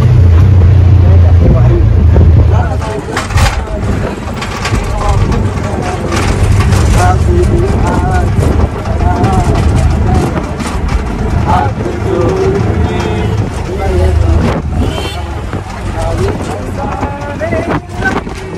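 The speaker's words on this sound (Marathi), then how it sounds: "आता मी गाडी चालवतोय, रिक्षा माझ्याकडे दिलेली आहे भावाने" An auto rickshaw engine drones while driving in heavy rain, a loud rumble with wind buffeting the microphone as people talk over it throughout.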